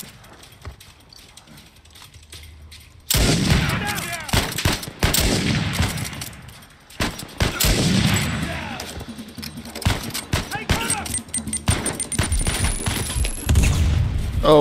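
Gunfire from a sniper rifle in Uncharted 4 bursts out after a quiet opening, with repeated loud shots and booms over several seconds amid game action, a faint voice now and then under the fire.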